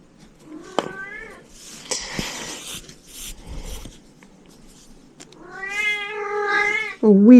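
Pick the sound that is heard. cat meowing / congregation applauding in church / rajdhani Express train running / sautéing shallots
cat meowing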